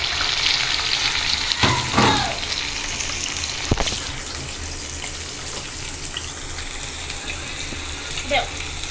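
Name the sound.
rohu fish frying in mustard oil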